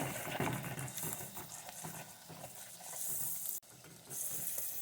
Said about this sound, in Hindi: तो अब हम इसमें ड्राई स्पाइसेस शामिल करेंगे। इसे थोड़ा सा फ्राई करेंगे।